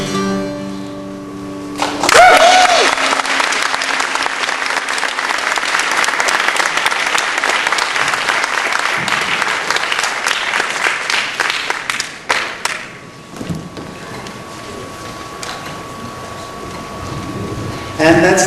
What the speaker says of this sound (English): So clap for all of them together now.